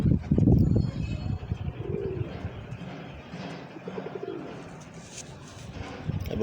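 Repeated low cooing from a Teddy pigeon, throaty and rolling, heard up close with quieter coos trailing off and light ambient noise underneath.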